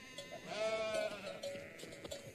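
Spotted sheep bleating in a pastoral setting, a wavering drawn-out bleat at moderate distance over a busy ambient background, with fainter animal calls around it.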